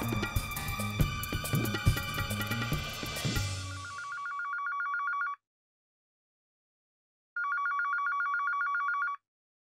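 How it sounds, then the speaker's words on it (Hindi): A telephone rings in two bursts of trilling electronic bell tones separated by a pause, loud and close, after music fades out. "मैं फोन उठाऊंगी।"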